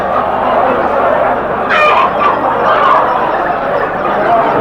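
Chickens and roosters at a weekly animal market, with a steady crowded din of clucking and fowl calls; a brief sharper crow-like call rises around the middle of the clip.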